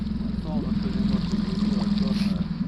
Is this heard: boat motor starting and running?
yes